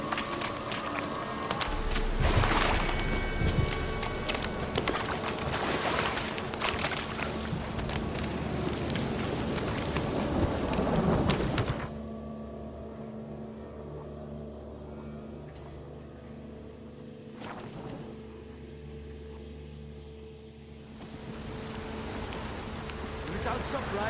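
Rain in the video game The Witcher 3: Wild Hunt, a steady patter that cuts to quieter ambience midway, with a few sharp cracks and a low rumble; no thunder is clearly distinct.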